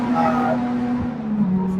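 Classic race cars on a Malaysian championship circuit, heard as a steady engine drone with a sustained low tone that shifts slightly in pitch, moderately loud and continuous as though passing at some distance.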